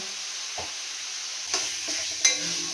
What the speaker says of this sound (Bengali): আমি পেঁয়াজ আর টমেটোটা ভেজে নেব। এর মধ্যে আমি একটু নুন দিয়ে দেব, তাহলে তাড়াতাড়ি টমেটোটা নরম হয়ে যাবে।